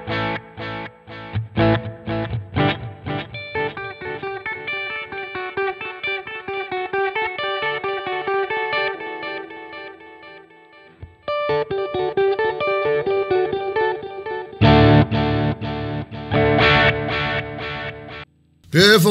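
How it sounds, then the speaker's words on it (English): Clean digital delay from a Sonicake Matribox 2 multi-effects unit, repeating an instrument's notes as exact copies; plucked chords and lines echo steadily at moderate loudness, with a brief pause midway and denser strumming near the end, no voices. "The next one, Pure, is your digital delay. So it's just an exact copy of whatever you put into it."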